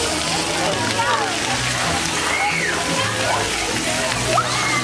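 Steady rushing and splashing water sprays continuously at a splash playground, with children's voices and adults talking faintly under the noise.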